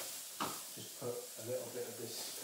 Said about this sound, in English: you can hear the pan sizzling